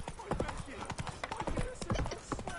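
Roach the horse's hooves clip-clop steadily in The Witcher 3 game, a rapid trotting rhythm under a spoken voice, moderately close.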